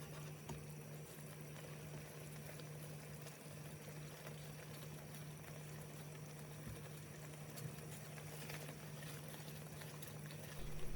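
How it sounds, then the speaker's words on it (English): Pasanda sauce with cream and meat simmers quietly in a pan, a faint, steady bubbling and fizzing that holds at an even level throughout, with a low hum beneath it. "simmer for 4 to 5 minutes until the sauce reaches your desired consistency and the meat is cooked through"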